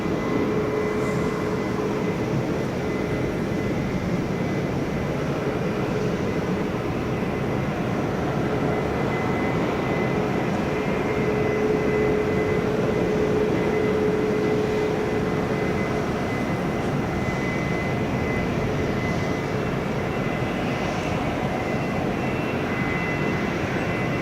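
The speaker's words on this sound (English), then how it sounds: "Sun Express. Flying away from the solar eclipse" A SunExpress airliner flies away from Manchester Airport, its engines a continuous broad roar with a faint steady tone running through it, holding fairly constant throughout.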